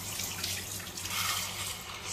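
Tap water runs steadily over soaked shiitake mushrooms that were boiled for thirty minutes and drained, a continuous close splashing rush at a sink with no voices.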